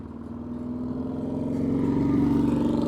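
A nice motorbike rides away near a stadium construction site, its steady engine drone rising slightly and growing louder over three seconds with no talk.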